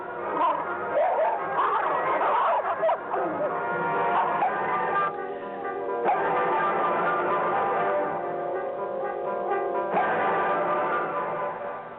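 Dogs barking and yipping at a staged dinner, several short barks and whimpers over a muffled, band-limited recording with a busy room behind them.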